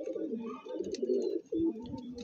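Andhra pigeons in a loft give steady, close, throaty cooing, with repeated low rolling calls running nearly unbroken and brief dips between phrases.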